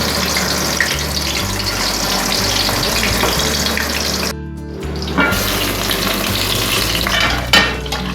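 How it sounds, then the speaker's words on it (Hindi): Chapli kebab and chopped tomato fry on low heat, giving a steady, dense sizzle that carries through most of the clip. The noise breaks off briefly near the middle, then returns at the same level with a few clinks. "और हल्की आंच पे इसको आपने फ्राई करना है।"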